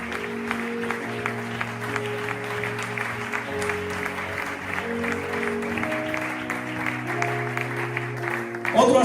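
A congregation applauds during a Spanish-language church service, with steady clapping running under sustained music throughout.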